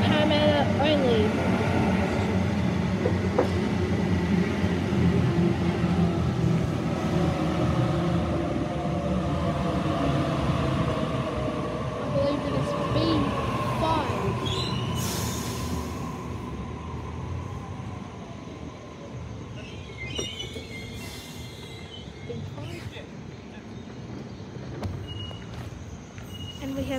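A Waratah B set electric suburban train passes Harris Park station heading for Parramatta, a long rumbling roll of wheels on track that slowly fades, with faint high squeals and a person talking over it.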